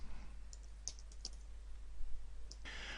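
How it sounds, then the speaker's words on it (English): Keys tapped on a computer keyboard while text is entered in Excel 2013, a few quiet separate clicks over a steady low hum, then a brief soft burst of rapid taps near the end. "Let's click within that and let's type some text."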